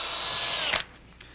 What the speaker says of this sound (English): A portable drill press accessory allows me to bore a perfectly straight hole.